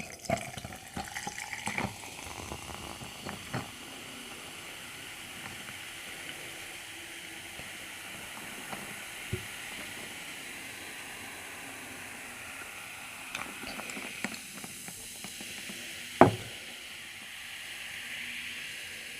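Ginger ale pours steadily with a soft fizzing hiss, close and quiet, broken by a few faint clicks and taps.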